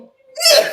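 A single sharp sneeze bursts out close by after a brief inhaled lead-in.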